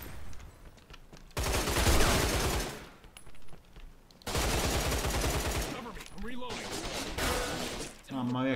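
Gunfire in the Line of Sight video game erupts in two long, loud bursts of rapid automatic fire, with scattered single shots in the quieter gaps and a player's voice heard toward the end.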